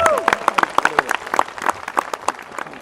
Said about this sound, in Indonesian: Yang percaya tepuk tangan bagi Yesus.